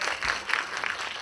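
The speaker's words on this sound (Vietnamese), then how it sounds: "Một tràng pháo tay dành cho Võ Đăng Khoa và Duy Khánh được mà." Brief round of applause from a press-conference audience for Võ Đăng Khoa and Duy Khánh, a short burst of scattered claps at moderate level, with no talk over it.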